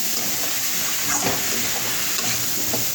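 Two kinds of dal are stirred in a cooking pan, with soft scraping strokes over a steady, close sizzling hiss.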